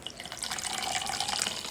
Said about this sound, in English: Rinse it out, and with very warm water